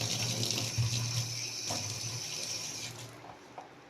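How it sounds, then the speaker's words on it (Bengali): Water draining from boiled soybeans poured into a small basket: a steady, close rush of splashing and trickling that lasts about four seconds and tapers slightly at the end, with no voices. "এই যে জলটা ঝরে গেল"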